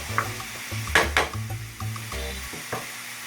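Onions and garlic sizzle in a pan for a lamb merguez dish, a steady close hiss with a few sharp stirring scrapes and clinks, no talking.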